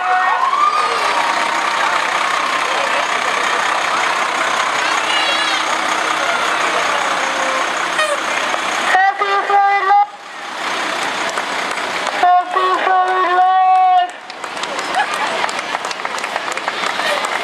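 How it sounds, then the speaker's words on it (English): Fire trucks, including a Mount Vernon Fire Department engine, roll by in a Fourth of July parade in New Boston, New Hampshire, their sirens wailing in loud rising-and-falling bursts over steady crowd noise and engine rumble. "And various other fire trucks."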